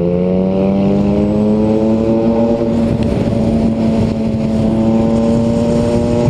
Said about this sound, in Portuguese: os caminhões também abusam